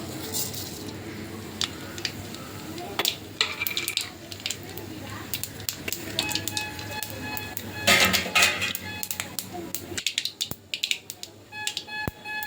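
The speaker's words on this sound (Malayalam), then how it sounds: "അങ്ങനെ നമ്മുടെ കടുവെല്ലാം പൊട്ടി" Mustard seeds crackle and pop in hot oil in a pan, sharp irregular snaps in quick bursts, with clinks of a utensil and some talking in the background.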